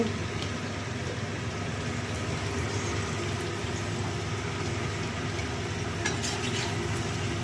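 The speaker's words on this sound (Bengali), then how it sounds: "সামান্য একটু জল দিয়ে নাড়াচাড়া করবো।" A spoon works through a pan of spiced potato curry loosened with a little water. Continuous close scraping and stirring sit over a low, steady sizzle, with no voices.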